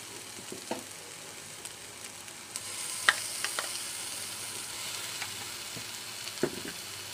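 Ginger garlic paste sautéing in a pan, a faint, steady sizzle broken by occasional light stirring clicks and scrapes, with no talk.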